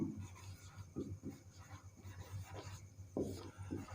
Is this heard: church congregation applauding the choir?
no